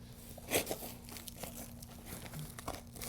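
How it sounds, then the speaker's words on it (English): Asphalt roof shingle being lifted and slowly torn loose from the layer beneath, a close crinkling tear with one sharp rip near the start followed by quieter scattered crackles. "I'm just continuing to lift and slowly tear that shingle until it's just isolated from the rest of it."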